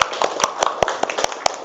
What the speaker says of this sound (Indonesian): beri tepuk tangan buat kita semua ya